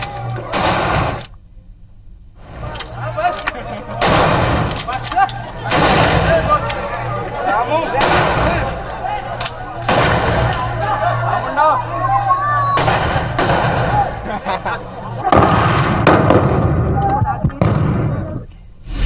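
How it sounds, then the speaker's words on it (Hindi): Celebratory gunfire from a group of about fifteen to twenty people during a wedding feast in Gwalior, heard as repeated sharp blasts spread through the clip over crowd noise and talk. "15 से 20 लोग हैं जो इस तस्वीर में भी, इस वीडियो में भी हर्ष फायर करते हुए दिख रहे हैं।"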